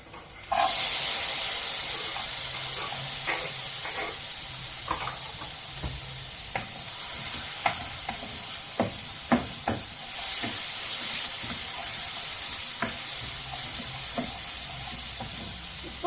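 Carrots sizzle and hiss in hot oil as they are stirred and fried for homemade shawarma, a steady close frying roar broken by occasional clicks and scrapes of the spoon, with no talking.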